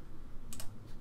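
Keystrokes on a computer keyboard: a couple of quick, close clicks midway through a short, quiet stretch, with a faint tap near the end.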